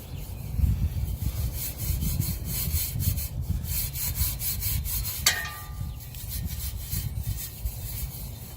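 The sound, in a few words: scrubbing chrome on a 2004 Harley Sportster XL1200C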